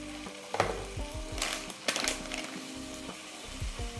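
Garlic and lime prawns frying in a pan, a steady close sizzle with scattered crackles and the clatter of pieces being turned one by one, no voices.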